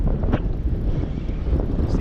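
Strong wind buffets the microphone steadily for two seconds beside water while float fishing for fall salmon, a low continuous roar with gusty rises.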